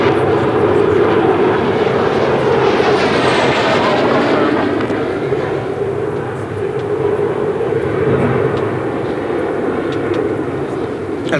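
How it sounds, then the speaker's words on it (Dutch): A propeller aircraft with landing gear down drones steadily as it passes slowly overhead at a 1988 air base anniversary show at Deelen, its engine pitch shifting as it moves by, loud and sustained. "Commandant Louis Baum komt nu langzaam voorbij met het landingsgestel uit."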